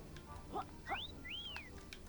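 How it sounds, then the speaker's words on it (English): Whistling in hunter mode in the Yooka-Laylee platform game rises in two quick sliding tones, each bending up and then falling, over a quiet game background with a few soft clicks. "When the hunter mode is on, you hear whistling"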